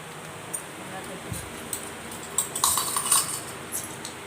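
Tiny metal spoons and utensils from a miniature toy kitchen set clink together in short, bright taps, busiest toward the middle, while a voice talks quietly in the background.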